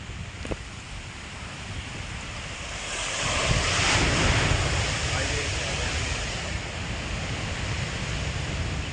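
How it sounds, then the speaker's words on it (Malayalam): Powerful sea waves crash against a coastline in a steady roar of surf that swells in the middle and stays loud, with wind buffeting the microphone and no clear speech. "കടല് കണ്ടോ ആവേ എങ്ങനെയാ തെര എങ്ങനെയുണ്ട് ഭയങ്കര തെരയല്ലേ വെള്ളം അടിച്ച് കയറുന്നുണ്ടോ"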